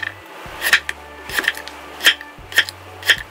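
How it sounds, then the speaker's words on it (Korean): A knife slices peeled radish along the grain on a cutting board for Korean radish salad, giving five or six crisp, evenly spaced chops close by with no talking. "무생채 하려면요, 결대로 또 썰어야 되거든요"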